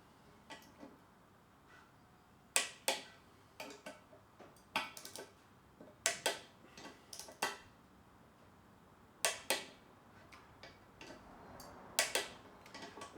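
Bolts being tensioned up with a hand tool during final assembly of a Honda CX500 motorcycle, heard as a run of sharp metallic ticks and clicks in short irregular bursts, fairly close and clear over a quiet background.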